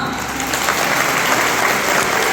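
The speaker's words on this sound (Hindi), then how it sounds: "जोरदार तालियां इनके लिए" Loud, steady applause from an audience cheers children at a naat competition in Bijapur, Karnataka, dense clapping filling the room throughout.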